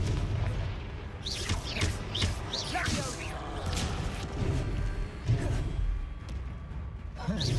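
Spell-blast explosions from the Confringo fire spell in the video game Hogwarts Legacy, several booming bursts with whooshes amid continuous game sound, under a voice calling out spells.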